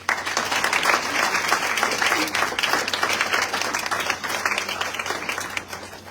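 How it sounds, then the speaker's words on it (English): Audience applause for the actors at the world premiere of a stage dramatization, a dense, steady wash of many hands clapping that holds at even loudness throughout. "let's join me in giving them a round of applause."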